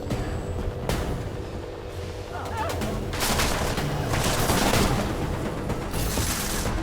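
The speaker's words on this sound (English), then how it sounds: "Let's toss ourselves a gas grenade." Gas grenade tossed and going off in Deus Ex: Mankind Divided, a loud sustained hissing burst that swells midway and lingers over game ambience, with scattered noisy bursts throughout.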